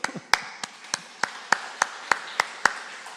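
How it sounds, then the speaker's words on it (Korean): About nine sharp claps in a steady, even rhythm, close by and crisp, with no voices, during a church service. "우리 축복의 박수로."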